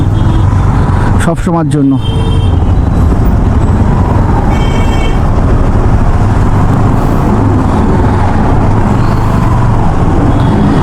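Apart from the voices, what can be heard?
traffic jam on road at Chuchuri station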